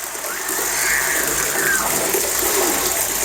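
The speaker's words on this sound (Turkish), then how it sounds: "çiçek sulama aletiyle Yusuf'u tam olarak bir şelaleye sokmuş oldum" Water pours and splashes in a steady, continuous hiss from a watering can, fairly close, with a faint chirp-like tone briefly above it.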